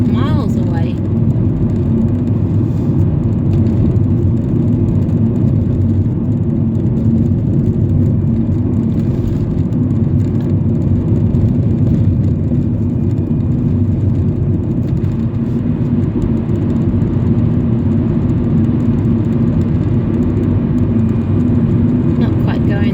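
A new car cruising at about 75 km/h at night, a steady low road and engine drone with tyre rumble that holds evenly throughout, close and continuous with no talking.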